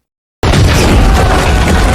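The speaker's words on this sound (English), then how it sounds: "a guard fires a rocket launcher, obliterating the bridge behind them in a fiery explosion" A rocket blast destroys a bridge in an action film scene: a sudden loud fiery explosion erupts after a brief silence, then a dense sustained roar and rumble that fills the rest of the moment.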